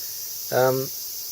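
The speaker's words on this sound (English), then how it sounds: "Also, please pardon the noise. That would be the cicadas." A thin, steady high-pitched drone of cicadas in a Japanese summer runs throughout, with a short tonal call briefly rising over it near the middle.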